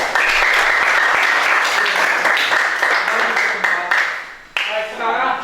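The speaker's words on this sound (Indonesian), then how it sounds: "Berikan aplaus." A class gives applause for a group presentation, brisk crowded clapping that runs loud, thins out and fades near the end as it dies away.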